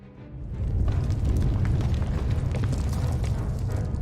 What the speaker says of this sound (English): the explosion triggered a chain reaction in the planet's core